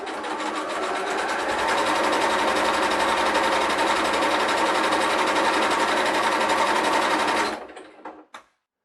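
A sewing machine stitches a zippered pouch in one steady, fast, whirring run lasting several seconds, then stops abruptly, followed by a couple of faint clicks.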